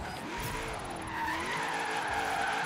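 Car from the Forza Horizon 3 racing game, a Land Rover Series III, drifting and skidding around a bend: a steady engine drone and a sustained tire squeal that swells slightly toward the end, with no talk.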